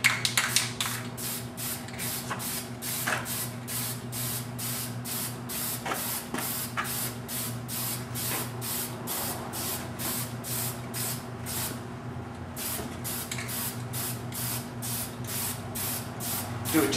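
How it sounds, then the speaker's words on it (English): Spray can paint hissing in repeated short bursts while a color coat goes onto a 1973 Chevrolet Nova steering column, each pass a steady close hiss with brief gaps between, over a constant low hum. "So now I'm going to hit color coat."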